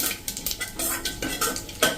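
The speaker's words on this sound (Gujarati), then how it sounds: "હવે આ બધું આપણે સહેજ ક્રકલ થવા દઈએ" Cinnamon pieces, dried red chillies and asafoetida crackle in hot oil for tempering, heard as close bursts of sizzle mixed with metallic scrapes and clinks of a spoon stirring in the pot.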